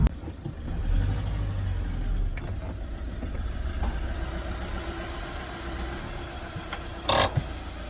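A VW Caddy van drives after suspension repairs with a new spring, top mount and drop link, giving a low, steady engine hum and road rumble at moderate level, with a short sharp burst of noise near the end.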